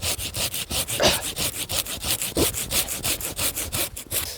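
Hand saw cutting a bonsai tree branch: steady back-and-forth strokes of the blade through wood, about seven per second, close and distinct with no talk.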